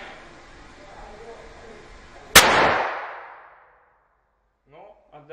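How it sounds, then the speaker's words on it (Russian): A single sharp .44 Magnum revolver shot cracks loudly and rings out into a fading echo, with a voice starting to speak briefly afterward. "Второй выстрел."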